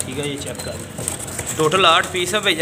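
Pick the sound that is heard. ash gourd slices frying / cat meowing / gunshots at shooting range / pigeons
pigeons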